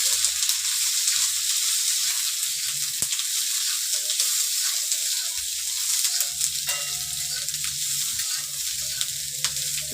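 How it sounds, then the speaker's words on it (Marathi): Onion and masala fry in oil for a boiled-egg curry, giving a steady close sizzle and crackle with occasional stirring scrapes from a spoon in the pan. "आता मी थोडं तेल याच्यात वाढवते आणि सगळं भाजून घेते व्यवस्थित"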